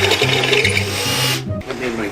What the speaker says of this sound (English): I can't forget to drill holes, so if I want to add some lights to this later, I could just snake them up through.